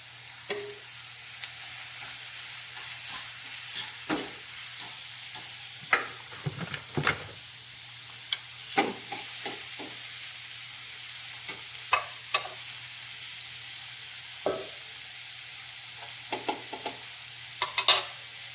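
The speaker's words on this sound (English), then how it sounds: "just going to allow this to cook and simmer" Garlic and onion fry and simmer in a pan, a soft continuous sizzle broken by scattered sharper crackles and spatters, with a low steady hum beneath and no talking.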